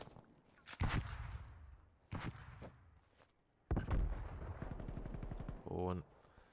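Gunfire in a competitive Search and Destroy video game match breaks out in several loud bursts of rapid shots and single cracks, separated by brief lulls, with a commentator's voice in the background.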